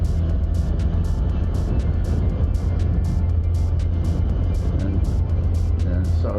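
A Can-Am Spyder three-wheeled motorcycle rides along a road in Sea Isle City, New Jersey: a steady, loud, low engine drone mixed with heavy wind rush and faint repeating ticks throughout.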